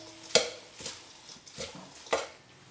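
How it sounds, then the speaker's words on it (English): Frisée lettuce is tossed with vinaigrette in a large bowl, producing a few soft, intermittent rustling and clinking bursts spaced apart. "toss until the frisée is well coated with the vinaigrette"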